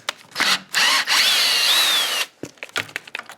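A cordless drill drives a screw into wood while building a shower bench, with a long continuous whine of about one and a half seconds after two short bursts, loud and close, then brief clattering handling noises.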